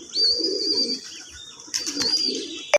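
Low, rolling coos of pigeons kept by a pigeon fancier repeat close by, with a steady high-pitched whine and a few sharp clicks and rustles in the background.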